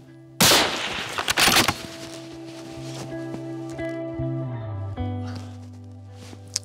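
A single sharp shot from a Sauer 505 rifle in 6.5 calibre cracks loudly during a fallow deer hunt, followed by a brief echoing rumble and then quieter outdoor background.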